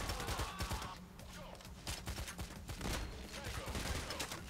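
Bursts of rapid submachine gun fire in the heist video game Payday The Heist, set in a bank, come in repeated volleys mixed with crashes and game effects, with people talking over the shooting.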